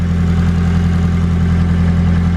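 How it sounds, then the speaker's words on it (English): A Nissan SR20 car engine idling steadily up close, a smooth low rumble with an even, unchanging rhythm and no voices. "Engine sounds nice and sweet."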